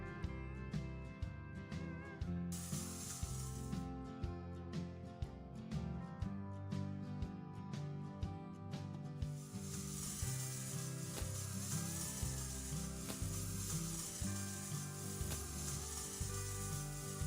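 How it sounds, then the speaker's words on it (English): Weed-killer spray in the Lawn Care Simulator game hisses in repeated bursts against a lawn, with a steady background tune underneath. "Glad this spray only kills weeds."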